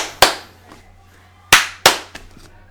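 Three sharp single hand claps made to sync audio, one early and then a pair about a third of a second apart near the end, loud and close with quiet room tone between.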